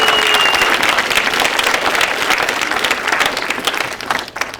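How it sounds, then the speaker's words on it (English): A school science fair audience gives a big round of applause, dense sustained clapping from a crowd that fills the room and tapers slightly toward the end. "we really want to give a big round of applause and thank the Ecotarium for supporting our event"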